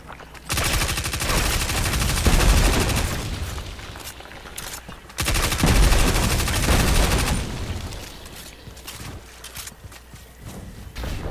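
A fusion rifle firing in Destiny 2, producing loud, dense bursts of charged weapon fire in two long sustained volleys with a short break between, amid game combat.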